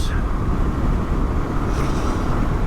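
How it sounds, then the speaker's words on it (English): Strong wind rushes over the microphone during a winter motorcycle ride, a loud, steady roar buffeting throughout with no break. "Oh, a bit breezy up here."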